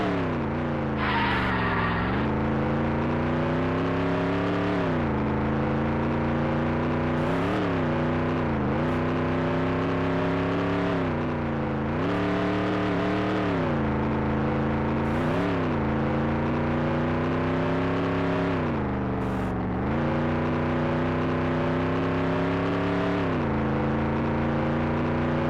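A race car engine drones continuously through a long qualifying lap in the Nascar 98 video game, its loud synthetic pitch rising and dipping through gear changes and corners, with a brief skid or scrape early on.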